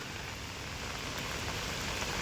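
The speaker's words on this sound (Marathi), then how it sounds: "पाऊस पण आलाय" Steady rain falling on farmland beside field embankments, a dense, even hiss that stays constant and fairly soft throughout, with no voices.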